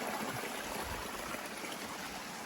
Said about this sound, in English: Says this water may be coming from the beaver bog.